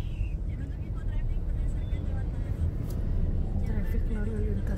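Heavy road traffic in front of a school in Gading Serpong, a continuous low rumble of engines and passing vehicles with occasional horns, under someone talking.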